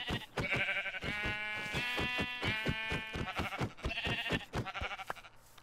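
Minecraft sheep bleat repeatedly in wavering, nasal calls, close and clear with no talk, several bleats following one another over a few seconds.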